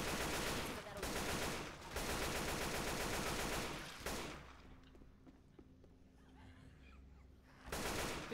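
Bursts of rapid gunfire from the video game Left 4 Dead 2, loud and dense, fill the first half, then quieter scattered shots and movement before another loud burst at the end.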